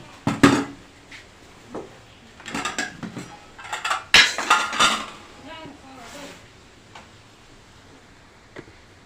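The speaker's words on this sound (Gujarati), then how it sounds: "સુધીમાં આપણે રોટલીના બટકાનું કટિંગ કરી લઈએ" Knife clinking and tapping on a plate or pan while roti pieces are cut for a Gujarati roti shaak, a series of sharp close metallic clicks and knocks in uneven bursts, with brief faint talk.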